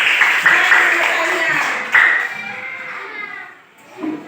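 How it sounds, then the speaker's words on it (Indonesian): Children in a classroom clap together in a brisk burst that fades over a few seconds, with young voices chattering over the applause. "Ya, tepuk tangan kita semua."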